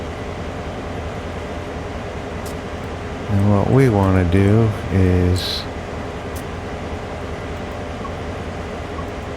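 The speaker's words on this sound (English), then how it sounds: "And that train that went by." A train rolls past on the Horseshoe Curve route in the Train Sim World 4 video game, a steady low rumble and drone lasting throughout, with someone talking briefly midway.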